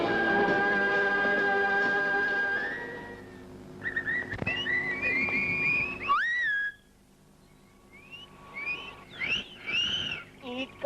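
Sharp rising and falling whistles trade back and forth, answering one another in bursts, after a sustained droning musical tone fades out; a Hindi film scene from 1987.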